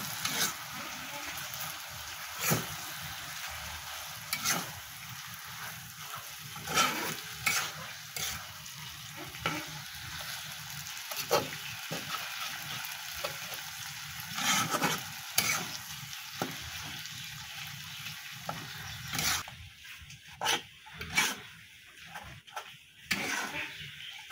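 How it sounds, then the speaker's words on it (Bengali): Fish roe and potatoes cook in a frying pan, a low sizzle punctuated by frequent spatula scrapes and knocks as the mixture is stirred continuously, fairly quiet and close. "ডিম অনবরত নেড়ে নেড়ে ঝুরঝুরে করে নিতে হবে।"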